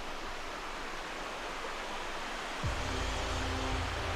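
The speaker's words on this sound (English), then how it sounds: "Waterfall in the distance." A distant waterfall in Reelig Glen gives a soft, steady hiss of falling water in a wooded glen, faint and even. Partway through, a low rumble and a brief tonal hum rise beneath it.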